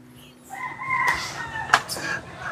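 Chickens cluck, and a rooster crows nearby on a farmyard. The calls are moderately loud over a low, noisy background, with a sharp squawk near the middle.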